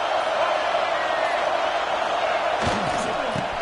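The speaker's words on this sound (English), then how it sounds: "And this big crowd doing everything possible to inspire this defense down here near the goal line" A big crowd at a night football game roars steadily as the defense holds near the goal line, a dense wall of cheering with a commentator's voice rising over it near the end.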